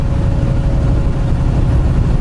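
Old truck engine with big upright exhaust pipes beside the door, running with a loud, steady low rumble close by, continuous and without talk.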